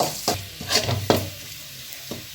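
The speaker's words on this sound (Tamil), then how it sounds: "தட்டி வச்ச பூண்டு இதில் போட்டுக்கலாங்க. நல்லா ஈரம் இல்லாமல் நல்லா வறுத்து எடுத்துக்கலாங்க." Crushed garlic frying in sesame oil in a pan, a close sizzle punctuated by several sharp scraping stir strokes of a spatula against the pan.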